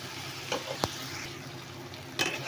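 Okra being stir-fried in a pan for chaat masala bhindi, a low steady sizzle broken by a few sharp scraping and stirring knocks, close and alone.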